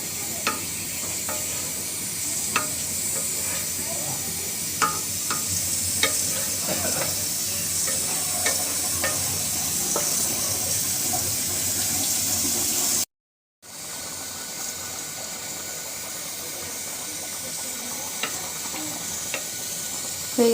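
Egg curry with potato and eggplant in a thin broth bubbles and sizzles steadily in a pan, a continuous close hiss with small pops and a brief dropout midway.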